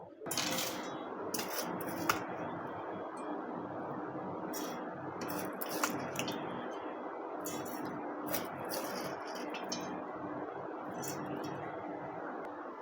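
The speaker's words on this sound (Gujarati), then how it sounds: "આપણે એક મિક્સર જાર લઈશું ને આપણે એમાં થોડા થોડા કરીને ચોખા એડ કરીશું" Dry rice grains go little by little into a mixer grinder jar, giving a steady rattling and clinking patter of grains against the jar that lasts several seconds, close and fairly loud.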